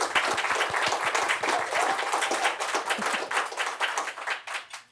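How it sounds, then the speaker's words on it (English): An audience at an awards event claps for senior managers, dense close applause with individual sharp claps audible, sustained throughout and tapering slightly near the end. "Join us in a round of applause for all our senior managers."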